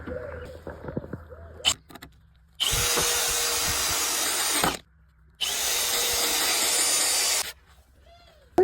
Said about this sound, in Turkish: Kılavuz delik açıyorum yoksa bunu böyle sokarken çat diye çatlatır keresteyi